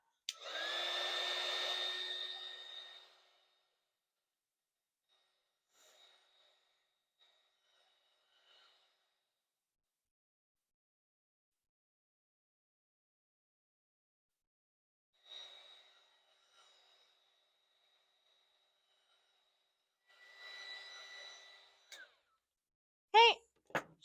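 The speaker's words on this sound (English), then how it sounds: "I'm going to hit it with the heat gun to dry it out" A heat gun drying watercolor paint on paper blows in a steady broadband whoosh for about three seconds near the start, then returns in brief bursts later, with quiet gaps between.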